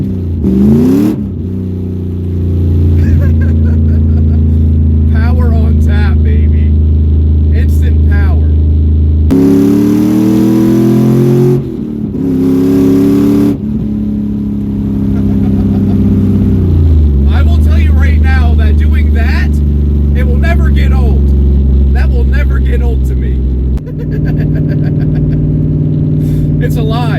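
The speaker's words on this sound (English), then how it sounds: "I'm driving this car right now." A BMW E46 fitted with a swapped S62 V8 engine drives and revs, its deep engine note rising and falling through repeated accelerations and gear changes, loud and close inside the car while someone talks over it.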